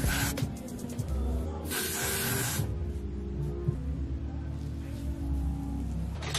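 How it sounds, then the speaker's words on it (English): Water spritzed from a spray bottle onto a wig, several short hissing bursts of mist, the longest near the start, heard close over a low background hum. "I'm gonna spray everything down."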